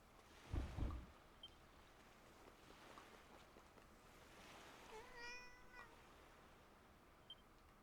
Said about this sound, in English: Oh, you can pet cats.